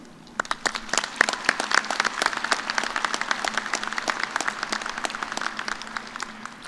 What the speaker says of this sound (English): Please join me in a round of applause to recognize these students also.